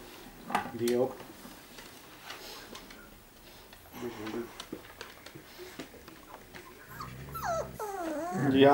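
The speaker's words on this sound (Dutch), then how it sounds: "grommen die brokjes daar" A puppy growls low and whimpers at a bowl of kibble, with short rumbling bursts and some clatter of the dish, while people talk nearby.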